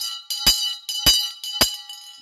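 A hand bell rung during a New Year's Day sermon gives three ringing metallic strikes about half a second apart, each leaving a bright, shimmering tone that lingers between strokes.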